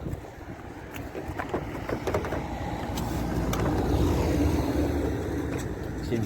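A drift car skids and slides at low speed, around 35 km/h, with broadband tire scrub and a steady motor noise. Wind buffets the microphone and a little talk is heard.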